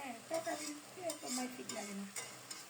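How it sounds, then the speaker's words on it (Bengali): Hilsa fish pieces rubbed with salt and turmeric frying in hot oil: a faint, soft sizzle with scraping stirs and a few sharp utensil taps spread across the moment. "ইলিশ মাছের পিসগুলো পরিষ্কার করে ধুয়ে লবণ হলুদ মাখিয়ে গরম তেলে ছেড়ে দিল"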